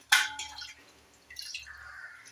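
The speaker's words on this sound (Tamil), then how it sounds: "நிறைய தடவை தண்ணி ஊற்றி நல்லா அதை கழுவணும்." Water poured and splashed over fish during washing, a sharp splash at the start followed by shorter trickles and pours, close and fairly clear with no talk.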